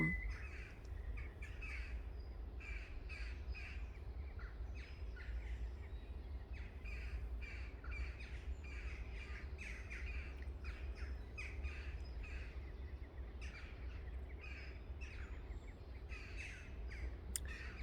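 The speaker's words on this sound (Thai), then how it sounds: "นกก็ร้องเพลง" Birds chirp and call repeatedly over a steady low background hum, a busy outdoor chorus of tweets at moderate distance.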